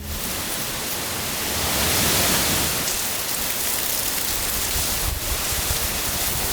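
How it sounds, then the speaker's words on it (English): Heavy rain driven by Hurricane Idalia's wind in Islamorada, a loud, continuous roaring hiss of downpour with gusts swelling and easing, no voices. "Yeah, it's howling and raining."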